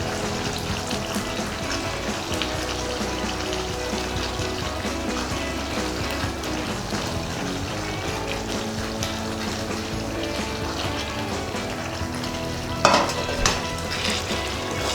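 Paneer pieces stirred through a pan of simmering Chettinad masala, a steady close sizzle and bubbling with soft scraping throughout, and one sharper clink near the end.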